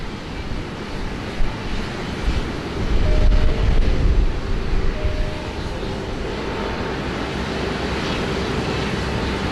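Airbus A380 jet of Singapore Airlines taking off from a rainy Sydney Airport, a steady broad engine roar building to a louder swell midway, heard from a distance with wind noise and no talk.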